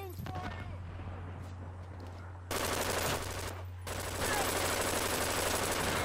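Gunfire in the online shooter Brink, sustained bursts of automatic fire that grow louder and denser midway, with someone talking over the early part.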